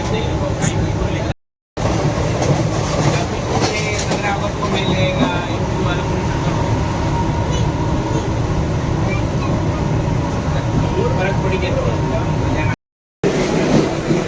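Mumbai suburban local train running between Mulund and Malad on a rainy day, a loud continuous rumble and rattle of wheels and carriage throughout, with brief dropouts and faint talk underneath.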